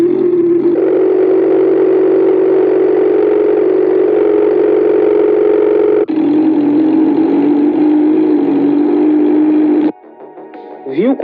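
A motorcycle engine idles with a loud, steady, even rumble whose tone shifts once partway through before it cuts off abruptly near the end.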